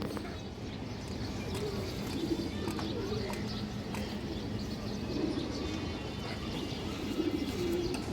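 A pigeon coos in soft, repeated low calls at a market stall of pigeon breeds, moderately near among steady background bustle and someone talking.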